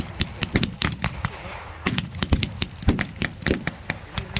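Gunfire in a WWII battle reenactment at Military Odyssey 2021, with Germans in a village firing on Allied troops: sharp, loud rifle and machine-gun shots crack in rapid irregular bursts, some overlapping, with echoes between them.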